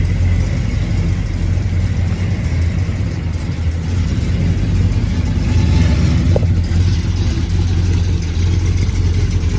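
A Chevelle Super Sport engine runs steadily at close range, a dense low rumble holding constant with a slight swell in the middle, no talk over it.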